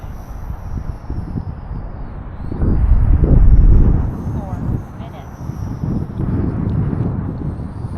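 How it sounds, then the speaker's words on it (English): A small Volantex P51D Mustang 400mm RC plane flies in strong winter wind, its motor buzz buried under heavy, gusting wind rumble on the microphone that swells loudly midway, then eases and builds again. "that this little plane flies in this much wind."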